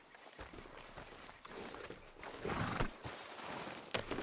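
In Red Dead Redemption 2, a horse's hooves clip-clop at a walk on the ground, with a whinny and soft snorts, fairly near and moderately loud.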